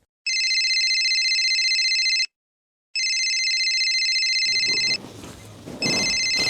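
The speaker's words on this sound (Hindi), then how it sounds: "इस टाइम किसका फोन आ गया?" A telephone ringtone rings loudly in two long electronic bursts with a short gap between them, then a third burst starts under rustling movement and background noise in a Haryanvi family drama scene.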